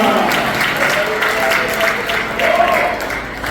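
A church congregation applauds, a dense wash of clapping that swells slightly near the end, with a voice speaking over it.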